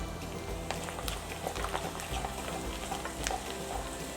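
Garlic fries in a pan for kara kulambu, giving a constant bubbling sizzle with light scraping and stirring clicks throughout.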